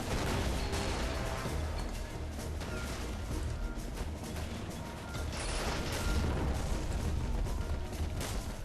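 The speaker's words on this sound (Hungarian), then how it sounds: "Imádom ezt a bombázást." Dense, continuous bombardment from the World War II strategy game Men of War, with rumbling blasts and crashing artillery layered into a loud, unbroken roar that never drops away.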